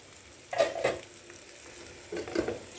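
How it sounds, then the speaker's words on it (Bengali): Vegetables, with green chili among them, are stir-fried with white pulao rice in a pan for Chinese-style rice. Two bursts of scraping stirring rise over a soft, steady sizzle. "এখন আমি বাকি সবজিগুলো এটার সাথে দিয়ে দিচ্ছি।"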